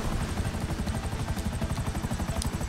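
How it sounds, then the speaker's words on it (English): A helicopter in GTA V Online makes a steady rapid rotor chop with engine whine, loud and continuous with no one talking. "Thanks for letting me borrow your helicopter"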